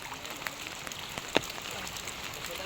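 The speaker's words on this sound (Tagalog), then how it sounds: "nalakas-lakas po ang ulan talaga" Heavy rain falling outdoors near a river on a fishing trip, a steady dense hiss that stays constant throughout, with a few faint sharper drops and no talking.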